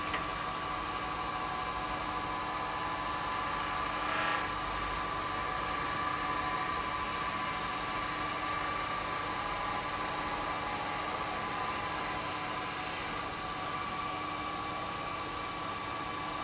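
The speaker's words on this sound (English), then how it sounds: "We'll get a little clean up cut, different spindle gouge," A wood lathe spins a wet wood cowboy hat blank while a spindle gouge makes a clean-up cut. A constant high whine and hiss runs throughout at steady volume, with no speech.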